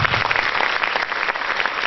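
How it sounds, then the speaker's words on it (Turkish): Audience at a conference applauding, a steady wash of clapping from many hands, loud and continuous over a short stretch. "onları alkışlıyoruz"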